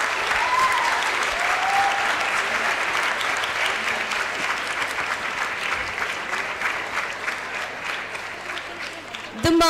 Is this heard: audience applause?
yes